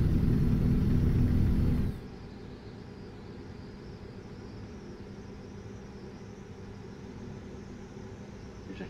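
A heavily loaded truck rolls downhill in American Truck Simulator, its engine a low, steady rumble. The drone is louder for the first two seconds and then settles to a quieter, even hum.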